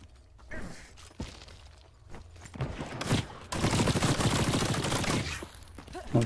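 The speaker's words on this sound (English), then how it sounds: "But what is he shooting at us?" Gunshots in the extraction shooter The Cycle: Frontier: a few scattered cracks, then a dense, noisy stretch of firing and clatter at moderate distance.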